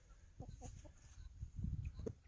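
Chickens clucking close by near a vegetable garden with potatoes, a few short bursts of clucks and squawks over a low outdoor background, with no talking.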